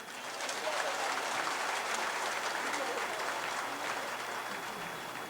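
Sustained audience applause at a women's weekend church gathering, a steady dense wash of clapping from a crowd, even and loud throughout.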